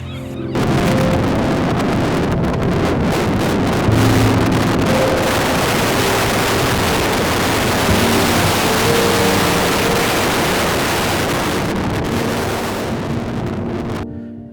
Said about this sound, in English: what they don't show you though is how incredibly windy it was